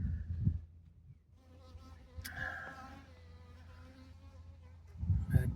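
Honeybees buzzing around a beehive in late August during robbing, a faint, steady insect drone in the background, with soft, brief thuds at the start and end.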